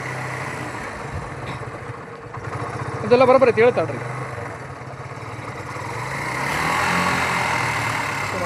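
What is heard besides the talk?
tractor engine running with hydraulic system working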